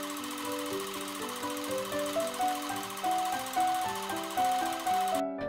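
A sewing machine runs steadily and close by as it stitches along the folded edges of a fabric tie, its rapid even whirring holding a shifting motor pitch before stopping abruptly at the end.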